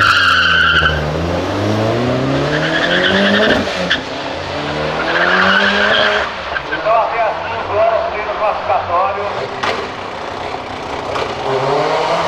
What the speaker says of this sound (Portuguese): Gol Turbo contra Tiguan, Tiguan levou.